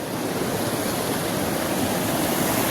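Water rushes over a small village check dam in the Konkan, a steady loud broadband roar close to the microphone with no break and no voices.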